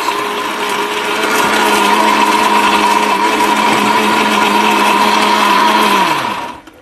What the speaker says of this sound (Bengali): ব্লেন্ডার, চলেন দেখি কি কাজ।